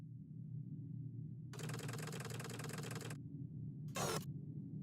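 A faulty engine in the video game The Book of Unwritten Tales 2 drones with a low steady hum, then a rapid mechanical rattling starts and stops abruptly, followed by a brief harsh burst of noise near the end.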